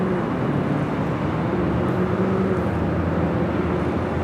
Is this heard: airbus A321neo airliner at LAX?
yes